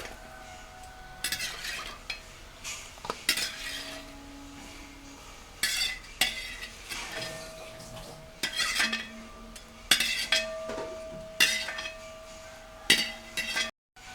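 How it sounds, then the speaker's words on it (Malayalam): Fried bread slices for shahi tukda being scooped out of sugar syrup, with repeated clinks and scrapes of a metal utensil against a pan or dish, in bursts with short pauses, close and moderately loud. "സിറപ്പിൽ മുക്കിയ എല്ലാ സ്ലൈസും നമുക്കിട്ട് കോരി വെക്കാം"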